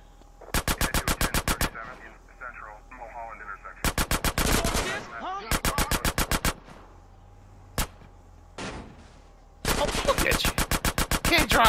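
Rapid automatic gunfire in Grand Theft Auto San Andreas Definitive Edition, loud close bursts of machine-gun fire in several clusters separated by short pauses, ending with a long sustained volley.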